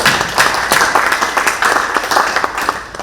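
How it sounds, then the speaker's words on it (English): Brisk, steady applause from a crowd at a pop art challenge reception, close and fairly loud, with individual claps audible throughout the short burst. "Give a big applause for our brother."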